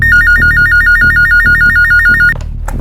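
A telephone rings loudly with a rapid warbling electronic trill repeated in quick bursts, backed by rhythmic dramatic music, then cuts off abruptly near the end.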